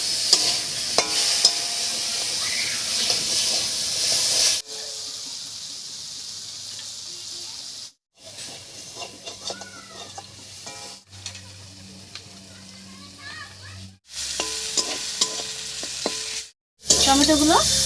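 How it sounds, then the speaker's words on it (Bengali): Tomatoes frying in a pan sizzle and crackle as they are stirred, heard in several cut segments separated by brief silent gaps, loud and close throughout. "এই অবস্থায় টমেটোগুলোকে একটু ভাজা ভাজার মতো করে নেব"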